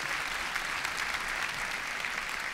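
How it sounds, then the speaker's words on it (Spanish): Steady applause from a church congregation fills the space at a moderate level, a dense, even patter of many hands with no voices on top. "Un aplauso."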